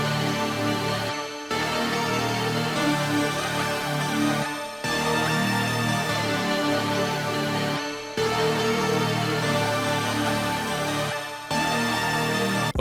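A dense, high-energy trap beat made in FL Studio plays the full beat with its melody. Regular brief dropouts break the music every few seconds, and no voices are heard.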